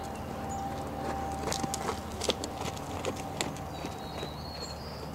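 A horse walks in a riding arena, its soft hoof thuds falling in an irregular rhythm at moderate distance against a low ambient background.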